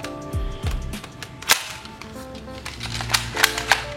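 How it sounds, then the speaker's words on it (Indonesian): Sharp snapping pops from an airsoft gun shooting 0.25 g CYC BBs, with one loud shot and several smaller clicks and ticks spread irregularly, close by, with no talking. "Oke, kita tes tembak pertama."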